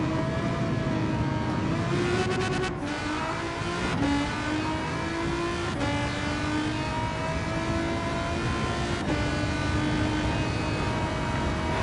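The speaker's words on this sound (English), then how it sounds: "the engine note is amazing. And the constant gear shifts are just brilliant." A Volkswagen GTI Vision Gran Turismo race car in Gran Turismo 7 revs hard and loud through constant quick upshifts, its engine note climbing and dropping repeatedly with no talking.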